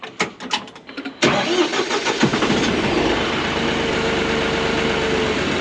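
A car engine cranks and catches after a few short starter bursts, then settles into a steady, loud idle close by, with a faint high whine running through the rumble.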